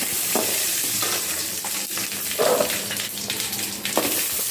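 Dried red chillies frying in hot oil for a drumstick fry, giving a loud, steady sizzle close up, broken now and then by the scrape and clink of stirring.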